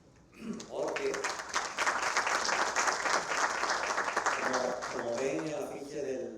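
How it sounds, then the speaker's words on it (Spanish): An audience at a film club screening breaks into applause after a brief spoken line, the clapping swelling quickly into a full, sustained round and then easing as a voice returns near the end. "Creo que por ahí ya podemos dar el primer aplauso"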